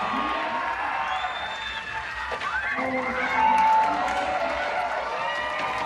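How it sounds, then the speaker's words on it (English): Large crowd at the Utah State Fairground roars and cheers for a women's park skateboard run at X Games Salt Lake City 2025, a broad sustained swell with whoops over it, building louder midway, while an announcer talks over the noise. "this Utah State Fairground crowd letting her hear it. A major roar out here at X Games SLC."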